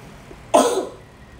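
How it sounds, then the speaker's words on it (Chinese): A single short cough from a young child with an allergic cough, one sharp close burst that trails off quickly against a quiet room. "他咳嗽，明天要开学，然后先咳嗽，昨天开始咳嗽"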